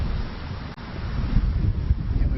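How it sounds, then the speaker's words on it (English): Gusting wind buffets the microphone on an outdoor disc golf course, a steady low rumble with slight swells and no other clear sounds. "Got some gusting winds"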